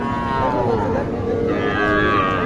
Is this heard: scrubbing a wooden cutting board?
no